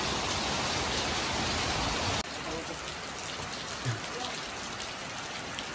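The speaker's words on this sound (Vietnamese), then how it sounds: "Hy vọng là trời sẽ tạnh mưa sớm để có thể đi quay được." Steady rain pouring down outside a grocery store in the Vietnamese highlands, a dense broadband hiss that drops slightly in level partway through, with a few faint knocks in the background.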